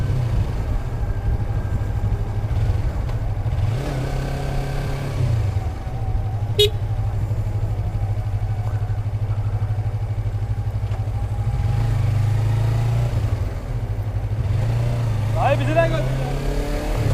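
A Yamaha R25 sport motorcycle rides through heavy match-day traffic around an Adana Demirspor–Beşiktaş game, its engine droning low and revving up and down repeatedly, with surrounding traffic noise and a brief horn-like chirp near the end.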